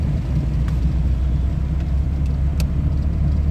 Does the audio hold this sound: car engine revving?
yes